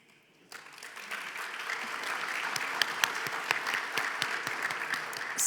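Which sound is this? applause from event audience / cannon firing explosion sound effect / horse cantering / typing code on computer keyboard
applause from event audience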